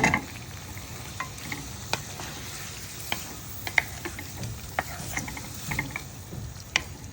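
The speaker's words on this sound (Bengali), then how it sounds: "এদিকে পেঁয়াজ আর মরিচ দিয়ে হচ্ছে মশলাটা কষে নিছি" Onion and chili masala frying in a pan, a steady soft sizzle with scattered clicks and scrapes of stirring throughout, close and moderately quiet, with no voices.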